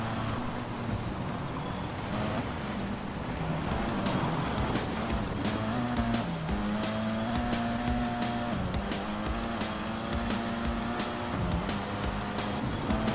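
A race car engine in the MRC racing game revs and drones steadily, its pitch stepping down as it shifts down into third gear. Tire noise and scraping sounds run through, and the engine stays loud and close the whole time.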